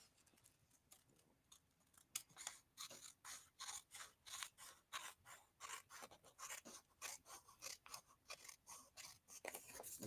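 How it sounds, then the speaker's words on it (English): Scissors snip steadily through paper around the edge of a handmade Valentine's card envelope, a quiet, close series of rhythmic rasping cuts, picking up pace after a slow start and going on for about ten seconds without speech. "now all I'm going to do is cut around the edge of my envelope here"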